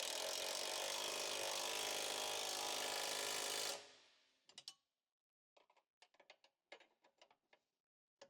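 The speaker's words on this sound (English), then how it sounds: "Use the same tools with a 21mm wrench to tighten the mounting bolt at the rear of the lower control arm." A 21mm wrench and power tool tighten the rear lower control arm mounting bolt on a 2015 Ford Escape: a loud continuous impact-wrench whirr cuts off, followed by a series of short sharp ratcheting clicks and metallic taps.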